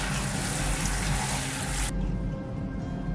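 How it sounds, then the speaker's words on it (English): Running water rinsing dyed wool yarn, a loud steady splashing rush for about two seconds, then a quieter trickle as the flow eases. "Now let's rinse out the other one."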